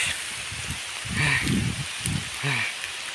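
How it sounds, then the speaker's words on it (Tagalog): Rain falls in a soft steady hiss around hikers on a trail up a peak near Catbalogan City, Samar, while people talk and breathe nearby over the patter. "So it's raining now."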